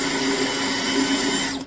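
A pilot drill bit bores into metal during a handmade cafe racer or bobber motorcycle build, giving a steady, close, whirring grind that holds even for the whole moment and then cuts off.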